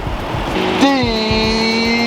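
A car is pulled up and parked at a mobile detailing job: a close engine rev that rises into a steady whining tone over low rumble, with a voice behind it.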